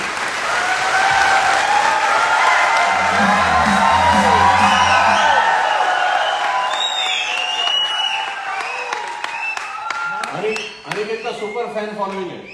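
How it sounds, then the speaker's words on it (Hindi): Loud audience applause with whoops and cheers at a training seminar, sustained for several seconds before thinning into scattered claps and background voices near the end. "जोरदार तालियां होनी चाहिए"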